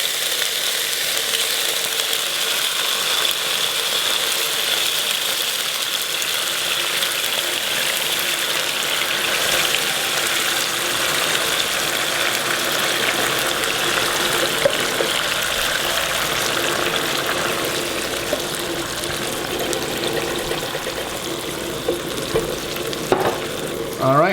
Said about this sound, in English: that's when you add your tomato